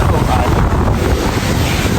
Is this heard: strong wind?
yes